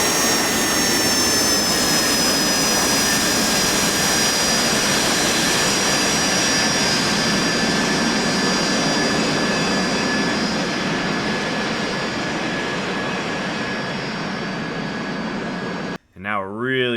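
An AV-8B Harrier jet engine in the DCS flight simulator roars steadily at high power during takeoff, loud and constant, with a whining high tone over a broad rushing roar and a voice talking over it near the end.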